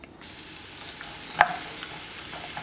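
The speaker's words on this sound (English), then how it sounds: "I have a little bit of olive oil in my pan, so what I'm going to do now is put my onions in first." Onions dropped into a pan of hot olive oil set off a steady, soft sizzle with a brief clattering burst partway through, close by and with no talking.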